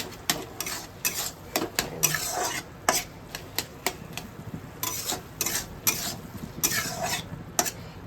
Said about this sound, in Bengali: লঙ্কাগুলো আমি খুন্তি দিয়ে করে দিচ্ছি।